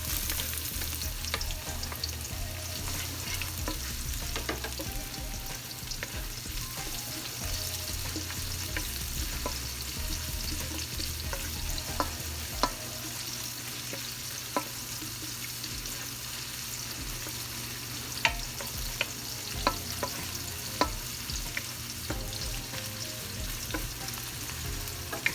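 Onions frying and being stirred in a pan for fish escabeche, a steady close sizzle with scraping stirs and small clicks of the utensil throughout.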